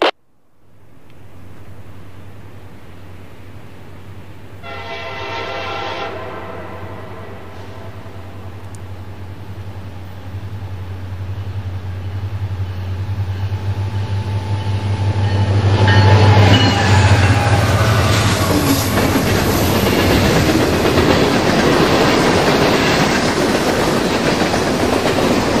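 An Amtrak train rolls through Amsterdam station, a long rumbling pass that starts low and steady, picks up rhythmic clickety-clack of wheels over rail joints, and grows louder and brighter toward the end.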